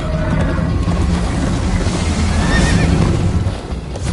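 A horse whinnies with a rising squeal midway through a chase, over a dense, steady rumble of galloping hooves and commotion that stays loud throughout.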